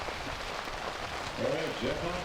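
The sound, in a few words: rain falling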